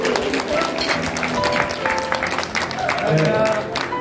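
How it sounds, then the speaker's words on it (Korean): A charity dinner crowd applauds scholarship donors in a banquet hall, a dense, fairly loud clapping wash that carries on steadily, with murmuring voices and room noise mixed underneath. "박수 좀 부탁드리겠습니다"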